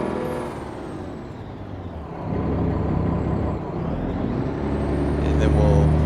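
A truck engine in American Truck Simulator, hauling double trailers, revs up in a drag-race pull: a deep, loud, rumbling drone that surges louder around the midpoint and again near the end, with a voice talking over it.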